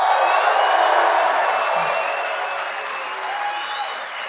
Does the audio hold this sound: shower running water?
no